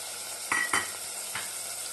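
Minced mutton keema tipped into a hot pan for a potato gravy, giving two close clattering bursts of sizzle and stirring against a steady frying hiss, with a softer scrape about a second later.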